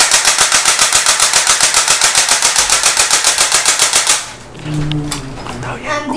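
Airsoft rifle firing a rapid, even burst of about forty close, loud shots for four seconds, then a quieter mechanical whir and faint voices afterward.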